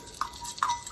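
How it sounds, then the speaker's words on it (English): Rice being stirred into hot oil in a pot while preparing red rice: two quick, faint scraping strokes about half a second apart over a quiet background. "just stir it in your hot oil, kind of fry it, brown it really good"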